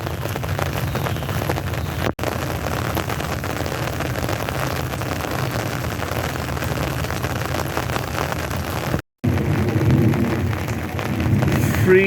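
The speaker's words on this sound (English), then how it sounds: "It's all rain today. Just rain." Heavy, steady rain from Tropical Storm Alvin in the desert drums continuously with a thick, even roar, broken by two brief silent gaps, and grows slightly busier with close splashing toward the end.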